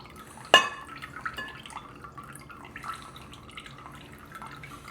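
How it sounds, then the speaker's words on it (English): Whey dripping and trickling from homemade Italian cheese curds into a bowl, a sharp splash near the start followed by soft intermittent drips, close and quiet. "Let's let this drain for a second."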